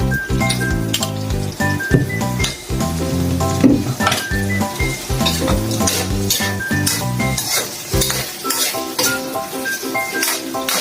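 Chicken goes into a sizzling kare-kare peanut sauce in a pan, with steady frying hiss and repeated utensil scrapes and clinks against the pot, close and fairly loud over a continuous tonal background.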